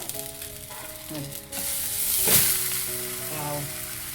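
A spoonful of oil poured around a wheat-flour and potato flatbread on a hot tawa sizzles loudly and steadily, surging in a sharp hiss midway, with a faint sustained tone underneath.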